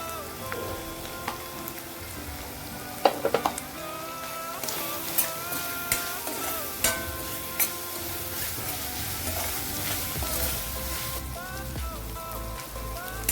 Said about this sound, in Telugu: అల్లం వెల్లుల్లి పేస్టు, ఉల్లిపాయ పేస్టు వేగిపోయింది కదండి